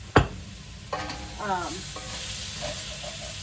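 Chicken and spinach stir-fry in oil in a pan, with a sharp initial clatter followed by soft sizzling and scraping stirs, fairly close and with no talking.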